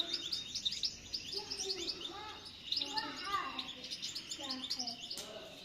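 Tunisian Parva goldfinch chicks, about fifteen days old, chirp close by in rapid high tweets and twittering bursts that carry on almost without a break, with a voice faintly underneath.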